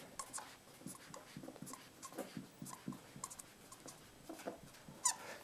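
A pen writes words on paper while labelling a grid chart, giving a run of quiet, close scratchy strokes in an irregular rhythm over a faint background hiss, with no talking.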